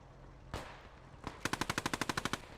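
Rapid automatic gunfire from a World of Tanks-style tank battle featuring a Renault, a single sharp shot followed by another, then a fast burst of about a dozen evenly spaced loud cracks.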